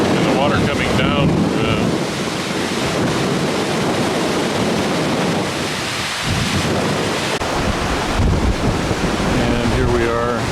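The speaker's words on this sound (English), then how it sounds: "hopefully you can hear the rush of the water." A glacier-fed river in Iceland rushing loudly and continuously, a dense roar mixed with heavy wind buffeting on the microphone throughout, with no clear talk.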